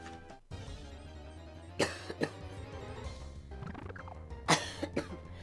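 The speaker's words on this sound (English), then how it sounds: "I can still feel a frog in my throat whenever I try to do something, and then the coughing starts off" Someone with a frog in the throat coughs in a few sharp, separate bursts, alone over a steady low backdrop of game music.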